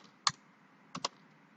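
Keys clacking on a computer keyboard while an SQL insert query is entered for an employee table, one keystroke followed by two quick ones, close and crisp in a quiet room.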